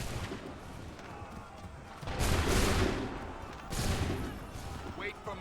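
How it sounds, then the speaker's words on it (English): Volleys of gunfire in Assassin's Creed, two loud broadband bursts of massed musket fire a second or so apart over a steady background din, with voices faintly under it. "Open fire."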